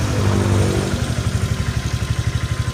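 Honda Vario 125/150 scooter engine idling at low revs, a steady close chugging pulse with regular beats after a brief higher rev at the start, heard alone.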